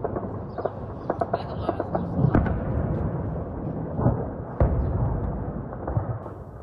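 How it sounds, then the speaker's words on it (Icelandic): Explosions and gunfire ring out during armed clashes in Khartoum, Sudan: sharp, scattered bangs and heavier booms punch through a continuous low rumble at a distance. "Heyra mátti sprengju, gný, byssu, skot og drunur í orrustuþotum í morgun í súdönsku höfuðborginni Khartoum"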